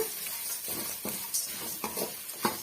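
Masala ingredients for Chettinad ennai kathirikai kuzhambu being dry-roasted in a pan over a medium flame, with steady scraping and stirring strokes and a faint sizzle recurring roughly every half second, close and fairly quiet.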